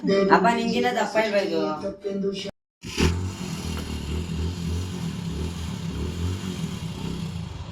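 A motor vehicle travels along a road, its engine a steady low rumble that rises after a short stretch of close conversation and continues as a droning hum.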